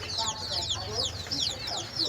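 Hens with chicks on a small farm cluck in low bursts while the chicks keep up rapid, high peeping, overlapping and close throughout.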